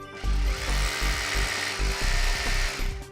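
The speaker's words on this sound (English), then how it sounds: "and then you can start drilling your holes." A power drill with a 1/2 inch bit bores mounting holes into a concrete pad for a cluster mailbox unit, a loud, steady grinding roar with rattling hammer pulses close by, running almost without a break.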